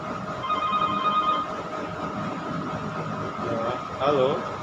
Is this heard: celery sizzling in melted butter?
no